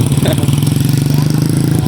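A Rossi 125 motorcycle engine idles close by with a steady, throbbing low rumble and a faint clatter, running evenly and alone throughout.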